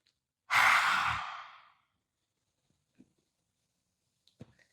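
One long, deep breath during a yoga practice for singers, a close, breathy exhale-like rush lasting about a second, followed by near silence with a few faint small knocks.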